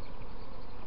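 Honeybees drone steadily during a spring hive inspection, a dense, continuous buzzing that stays close and even for the whole short moment with no talking over it.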